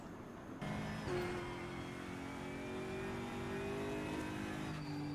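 Race car engine held at full throttle in RaceRoom on the Mid-Ohio circuit, a steady loud high-revving drone with a slight pitch climb, droning on continuously with no talk.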